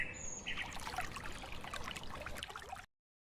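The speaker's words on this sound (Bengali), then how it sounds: "আমি হাত মুখ ধুয়ে আসছি এখনই।" Water pours and splashes steadily as a cartoon father washes his hands and face, a continuous close trickling stream that stops abruptly near the end.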